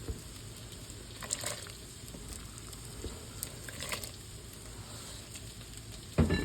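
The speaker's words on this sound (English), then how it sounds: "Now to my pot of simmering broth, I'm going to add in my white beans and the chopped lamb meat." A pot of broth with white beans and chopped lamb simmers with a soft, steady bubbling and faint crackle, low and close, with a louder clunk at the end.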